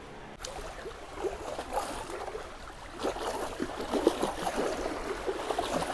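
River water at Kudalasangama washes and laps softly in a cool breeze, a faint, steady, gently fluctuating wash with small splashy ripples and no talking.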